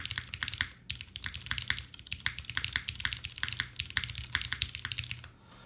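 Mechanical keystrokes on an Urskog keyboard with a Salvation hybrid tray-style mount, a fast close steady run of clacky taps with a brief pause near the start and a stop at the end.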